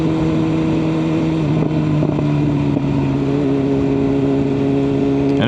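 A BMW M1000R motorcycle cruises toward the city, its engine a steady, loud droning hum with a constant pitch, heard from the rider's position amid wind noise.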